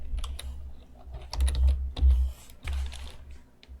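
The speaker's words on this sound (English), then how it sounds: "And you can do that by typing." Typing on a computer keyboard, a quick uneven patter of key clicks in short bursts with brief pauses, close and fairly quiet, no talk over it.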